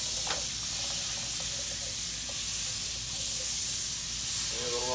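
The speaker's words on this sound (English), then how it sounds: "I'm gonna put my butter here. Get it melted off here in the pan." Butter melting and sizzling in a hot pan, a steady, even hiss that runs throughout with a few faint clicks and pops.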